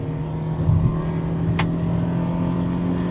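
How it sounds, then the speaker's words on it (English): A 2025 Toyota Prius pulls away hard from a standstill in a 0 to 60 run with a brief tire chirp, a steady close hum of the car and road noise continuing through the whole stretch, no talking. "Let's get a little 0 to 60 right here. All right, 3, 2, 1, go. Oh, we spun the tires."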